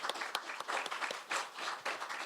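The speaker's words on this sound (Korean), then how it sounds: "김광현 센터장님한테 다시 한번 감사의 박수 드리겠습니다." Audience applause at a 2016 Jeju Forum session on Korea's economy and capital markets, thanking a centre director after his lecture: a steady wash of many hands clapping with distinct sharp claps, filling the room without talk.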